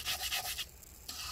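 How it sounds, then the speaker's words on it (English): Adhesive residue is scraped with rubbing alcohol inside a 15-inch late 2016 MacBook Pro A1707, a few short, close rasping strokes followed by a quieter pause. "I'm kind of just scraping it this way"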